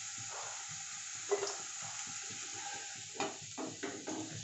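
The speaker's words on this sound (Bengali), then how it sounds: "আলুটা ব্যাস মোটামুটি এইটুকুনি ভাজলেই হবে," Potato pieces frying in a pan for a rui or katla fish curry, a steady soft sizzle and crackle running throughout, with a few brief louder spits and stirring clatters toward the end.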